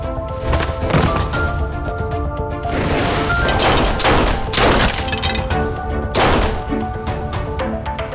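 Several loud, sharp gunshots ring out in a dramatic confrontation from a Chinese TV drama, spaced a second or two apart, each a sudden crack that fades quickly over a steady, sustained musical score.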